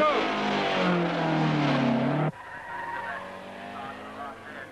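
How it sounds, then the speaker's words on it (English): Hillman Avenger rally car on the last stage of the Avon Motor Tour at Loughton Park, Shropshire: a loud, close engine roar with tyre scrabble rising in pitch, then cutting off abruptly to a quieter rumble of passing traffic and ambience. "There's Bernard Unet's Avenger, class winner and leader of the winning team"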